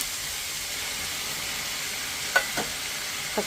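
Tomato sautéing in a pan for garlic curry gives a constant close sizzle and hiss, with two or three soft stirring scrapes near the end.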